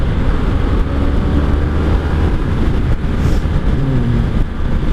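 Loud, steady wind roar buffeting the microphone of a rider on a 1984 Honda Sabre VF1100S motorcycle on back roads, with engine rumble blended into the constant broadband rush.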